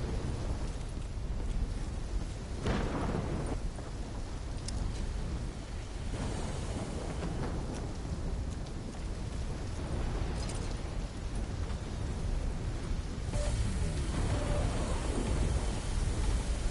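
A thunderstorm in Black Ops 3, steady heavy rain with rolling rumbles of thunder and occasional sharper cracks, constant and fairly loud with no talk.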